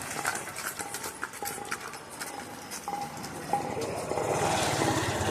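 A bullock cart rolls past in Nerur village near the Kaveri, its hooves clip-clopping in a quick, irregular rhythm close by, while a motor's broadband noise swells toward the end.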